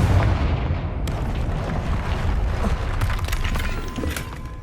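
Confringo spell blasts in Hogwarts Legacy, a dense rumbling run of booms and bursts that fills the stretch at steady loudness, with no speech present.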